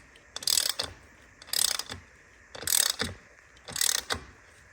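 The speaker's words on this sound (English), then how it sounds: "I'm going to swap over to a quarter drive ratchet now. Could get a bit of light on here. And just evenly tightening them up." Quarter-inch drive ratchet evenly tightening the screws on Akrapovic carbon fibre exhaust heat shields of a BMW R NineT Racer, four separate bursts of rapid clicking ratchet strokes with short pauses between, close and clear, no talking.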